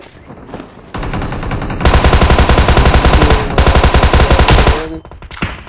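Rapid automatic gunfire from a video game, loud and sustained in dense bursts with brief gaps, a short lull near the end before a final shot.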